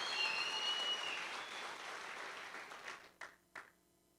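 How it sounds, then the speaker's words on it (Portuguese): An audience at the Conferência Resgate 2019 church conference applauds, with dense clapping that is steady at first, then thins and fades, ending in a couple of isolated claps with no talk. "Vamos dar uma salva de palmas para eles aqui"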